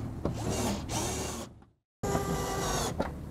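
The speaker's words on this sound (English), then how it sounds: "Start by attaching two screws in the center to support the fender skirt." A power drill drives screws into an RV fender skirt, with two long whirring runs, a brief silent pause, then another sustained drilling run, loud and close.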